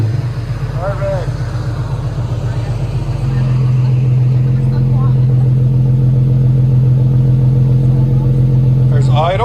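A 2013 Infiniti G37x with a 3.7L V6 and dual exhaust fitted with bottle-style resonators, heard close and loud: a steady, deep idle whose note lifts and firms partway through, then a brief rev near the end.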